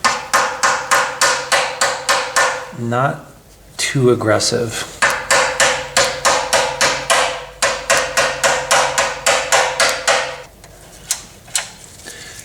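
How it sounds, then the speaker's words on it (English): Sharp rhythmic blows of a makeshift dead blow hammer on a part of a rough-running Honda GX160 engine, struck in quick bursts of evenly spaced hits with short pauses, metallic scraping between them and a brief spoken remark. "I'm just gonna use this kind of as a makeshift dead blow hammer."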